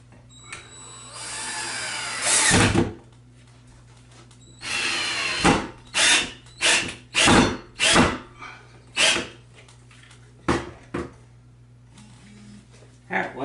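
A power drill bores a hole into a wall for mounting an Arctic W1A TV wall mount, with repeated close, loud whirring bursts, one longer run followed by a series of short pulses over a steady background hum.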